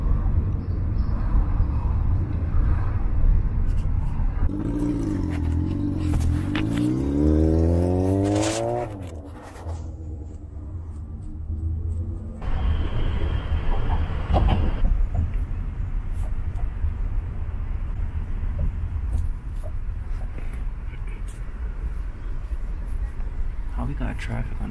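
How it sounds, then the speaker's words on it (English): Traffic on a bridge in New York City, a continuous loud rumble of vehicles passing close by with a rising engine or rail-like sweep in the middle, steady road noise throughout. "Traffic on the bridge."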